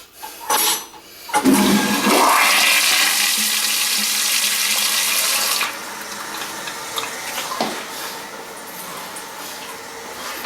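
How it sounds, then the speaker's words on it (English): A Kohler toilet in a hotel bathroom flushes loudly with a rushing gush of water that drops to a steady refilling hiss and trickle, close and alone. "And I guess for your toilet fans, you can flush it."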